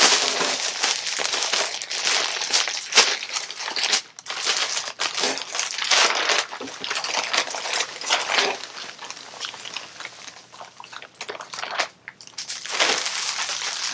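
A plastic-wrapped Supreme clothing package is torn and crinkled open, loud close crumpling and rustling with sharp crackles and brief pauses throughout.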